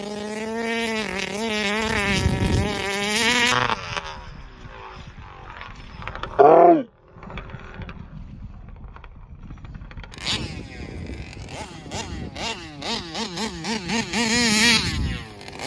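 A Taylor RC 71 Supreme RC car with a wheelie bar revs under throttle with a high, whining motor sound that rises and falls, cuts out briefly with a sharp burst, then winds back up loud and close.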